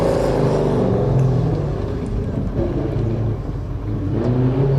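A Ford GT40 race car drives at a lakeside hillclimb, its engine a loud, continuous deep roar with rising and falling revs as it powers up the course close by.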